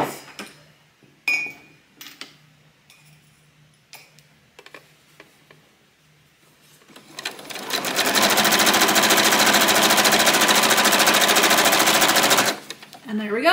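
A sewing machine stitches binding onto a quilt in a long, loud, rapid run of needle strokes lasting several seconds, after a stretch of quiet handling clicks and fabric rustles.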